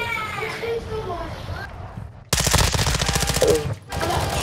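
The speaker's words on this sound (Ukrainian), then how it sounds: "куди ти стріляєш?" Automatic gunfire in Call of Duty: Modern Warfare II Warzone 2.0 DMZ, a loud rapid rattling burst that starts abruptly and keeps going in a steady stream, preceded by players talking over quieter game sounds.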